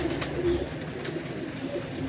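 Soft, low cooing from a khaki pigeon of a pure Ustad Akmal Khan bloodline, a steady murmuring coo repeated close by with no talking.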